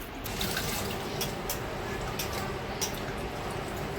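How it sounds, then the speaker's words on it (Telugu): Milky rinse water pours steadily out of a vessel of soaking rice being washed for dosa batter, a continuous close splashing stream with a few sharper drips. "ఇది 3వసారి నేను వంపేస్తున్నాను వాటరు"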